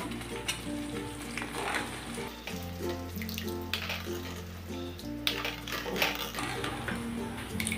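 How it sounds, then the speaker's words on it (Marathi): Hot water goes into a simmering chilli curry in a pan, raising a close, continuous sizzle and bubbling pour, with faint background tones underneath. "आता याच्यामध्ये आपण आवश्यकतेनुसार पाणी घालू."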